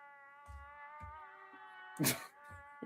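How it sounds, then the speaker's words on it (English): A cat meowing several times over a steady droning hum, with short low bursts and one louder, sharper cry near the middle, no speech. "Look at this cat, bro."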